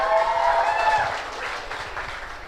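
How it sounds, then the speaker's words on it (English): An audience applauding after a song at a vocal concert, a broad wash of hand clapping that fades gradually, with some tonal ringing from the stage early on. "Please give them another round of applause."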